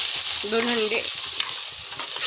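Eggs for a four-egg bhurji fry and are stirred in a hot pan, giving a steady sizzle with a brief scraping tone from the utensil partway through. No one speaks.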